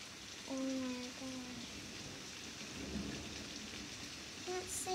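Rain falls steadily on a stormy day as thunder rumbles low and continuous underneath, with a few brief tonal sounds breaking through the wash.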